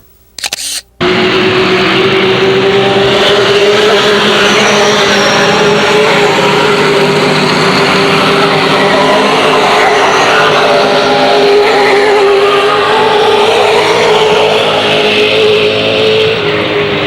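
Race cars roar around an oval track in a feature race at Illiana with the ARTGO series, a loud sustained engine drone that rises abruptly after a short quiet start and holds steady as the pack passes.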